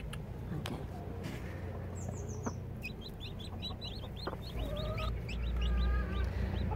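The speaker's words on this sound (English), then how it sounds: "There you go, he's pecking." Silkie chicks on their first day cheeping in repeated high, thin peeps, with soft pecking taps and a steady background hum underneath.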